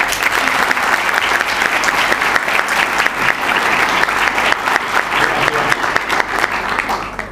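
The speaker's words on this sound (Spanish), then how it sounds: "El aplauso para Héctor Rossi." Loud, dense audience applause for a locution professor at a university presentation, continuous clapping from a full crowd holding steady without a break.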